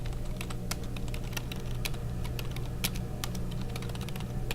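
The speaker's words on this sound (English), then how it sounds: "The sound of rapid keyboard clicks echoed throughout the washroom as he edited his code" Rapid computer keyboard typing fills the space, a steady flurry of close, crisp key clicks running without pause and with no voices.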